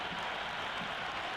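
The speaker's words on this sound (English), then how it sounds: "already the crowd is up and about" A crowd cheering and applauding at a cricket match in the video game Cricket 26, a steady, full wash of crowd noise with no break across the short stretch.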